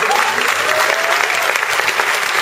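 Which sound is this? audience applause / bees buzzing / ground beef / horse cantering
audience applause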